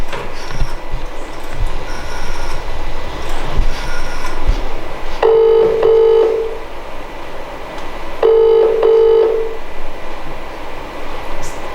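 Two bursts of rapid electronic dialing tones sound from a telephone in a radio play, each a quick run of beeps, heard over a constant rumbling background with no speech.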